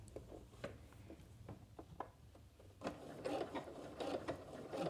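A sewing machine back stitching stretch fabric for fingerless gloves, with quick close mechanical clicks and ticks that give way to a faster, louder run of stitching near the end, no talk.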